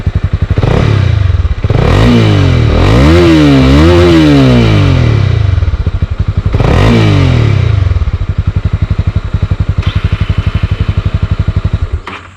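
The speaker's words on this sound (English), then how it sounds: "So the exhaust note of this motorcycle is absolutely beautiful." A 2022 Honda CB300R BS6 motorcycle revs hard and close, its exhaust note swooping up and down in pitch through several throttle blips before settling into a steady, bassy idle. No one speaks.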